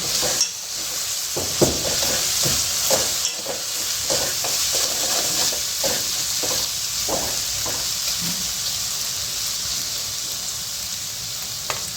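Mixed vegetable bhaji with chili powder sizzles in a pan under a steady hiss while a spoon stirs it, giving irregular scraping knocks against the pan throughout, nearby and with no talking.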